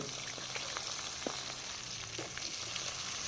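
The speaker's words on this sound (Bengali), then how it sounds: "মাছের মাথাটা সময় ধরেই ভাজতে লাগে" A large fish head fries in oil in a pan, a constant close crackling sizzle with scattered sharp pops and spatters throughout, no voices.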